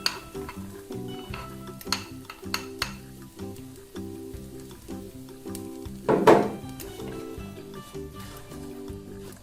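Garlic, onion and pepper sauté in a pan, with a soft sizzle and a few utensil scrapes and clinks as they are stirred. There is one louder clatter near the end, and a steady tonal background sits underneath.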